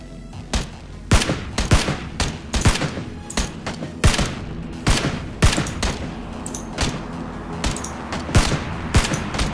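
Rapid gunfire in the video game PUBG: bursts of sharp, loud shots cracking in quick irregular succession, some single and some in clusters, close and dominant across the whole stretch.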